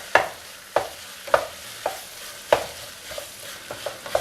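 A spoon stirs cooked dal into turkey berries in a pan, with scraping strokes at an uneven pace and a faint sizzle underneath, close and moderately loud.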